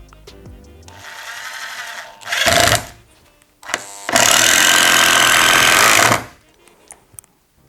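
A Vitals WI 1423il cordless screwdriver drives a 4.2x80 screw into a pine board, close and loud. A short whirring spin is followed by a strained grinding burst and then a long steady high-pitched run before it stops, with quiet gaps between.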